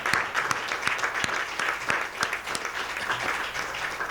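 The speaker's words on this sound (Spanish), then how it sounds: "Un aplauso al Señor." A church congregation at Sunday school applauds in a continuous, fairly quiet wash of many hands, with a few sharper individual claps standing out from the steady patter.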